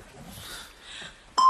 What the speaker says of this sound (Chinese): 电话， 你帮我接一下